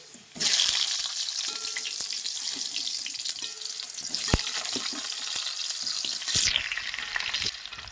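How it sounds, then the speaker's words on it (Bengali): Green banana and potatoes frying with whole chillies in hot oil, a steady loud sizzle with stirring clinks and scrapes throughout, fading slightly toward the end. "কলা দিয়ে দিচ্ছি, আর আমি ভালো করে ভেজে নিচ্ছি"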